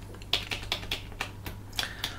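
Someone types on a computer keyboard while setting the ArcoLinux console font: about ten crisp, close keystrokes in an uneven rhythm over a low steady hum, with no voices.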